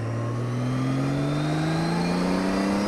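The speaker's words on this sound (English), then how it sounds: "See if you can hear some engine noise here." Motorcycle engine at highway speed, recorded from a helmet with the shield up: a steady, loud drone with a low hum rising slowly in pitch throughout, mixed with continuous wind rush.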